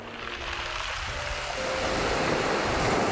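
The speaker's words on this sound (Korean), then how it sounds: "파도가 칠 때마다 동글동글한 몽돌들이 부딪히며 내는 소리가 아름다운 곳입니다" Waves wash over rounded, weathered pebbles on a pebble beach on Gaedo island near Yeosu, a steady broad rushing surge that swells louder halfway through, with no voices.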